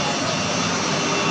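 A 37 kW electric water pump rated at 1500 cubic metres per hour runs with a loud, steady, unbroken roar close by, and no voices are heard.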